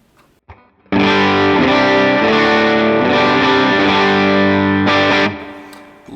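A loud, distorted electric guitar chord played through a humbucker pickup on an HX Stomp preset rings out and sustains for about four seconds, then cuts off, with no voices.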